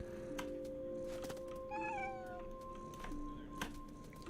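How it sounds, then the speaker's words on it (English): A cat meows once in the video game What Remains of Edith Finch, a short rising-and-falling cry over steady game ambience and a low hum. "you hear the cat?"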